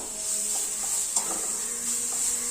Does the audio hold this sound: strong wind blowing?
no